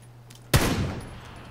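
A single sniper rifle shot fired in PUBG on a foggy map, a sharp loud crack followed by a decaying rumbling tail, alone with no talk.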